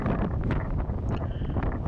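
The Mistral wind blows hard outdoors on Port-Cros island, a steady, loud roar and buffeting rush across the microphone with no pauses throughout.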